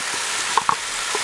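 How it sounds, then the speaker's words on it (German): Bacon, onions and garlic frying in a Dutch oven, a steady close sizzle with a couple of brief crackles and pops. "lassen die Zwiebeln und den Speck hier drin auch nochmal mit anbraten"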